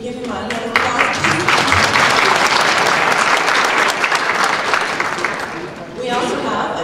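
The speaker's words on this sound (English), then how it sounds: "Can we give him a hand of applause?" A town hall audience in Parkersburg, West Virginia bursts into applause. It sustains a dense, steady wash of clapping for several seconds, then fades near the end as voices return.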